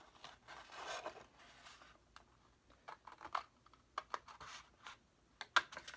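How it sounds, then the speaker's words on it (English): Quiet, close large scissors snipping and sliding through 12 x 12 paper in an irregular series of short crisp cuts, with soft rustling between them. "I'm going to use the bigger scissors so I can get right on in there."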